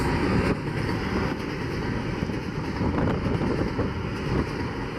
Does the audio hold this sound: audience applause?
no